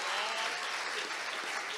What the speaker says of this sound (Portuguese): Você pode aplaudir ao Senhor pela palavra? Forte, pessoal.